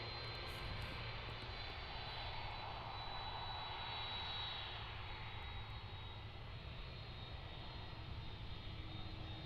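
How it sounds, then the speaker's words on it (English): A Turkish Airlines Airbus A330-300 wide-body jet departs Amsterdam airport for Istanbul, a steady broad engine roar with a faint high whine, heard from a distance and holding level throughout. "Let's enjoy this last wide body. The Turkish 330-300 off to Istanbul."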